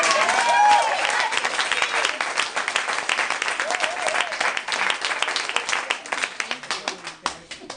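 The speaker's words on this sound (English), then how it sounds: "Let's give him an applause." An audience at a women writers' reading event breaks into applause, a loud burst of dense clapping that holds steady and then gradually thins out and fades toward the end.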